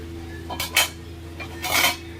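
A metal lid clinks twice onto a pan of goat brain fry, two bright clattering knocks about a second apart over a low steady kitchen hum, with no talking.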